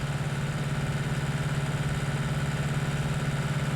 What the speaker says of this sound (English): Come on, little tractor.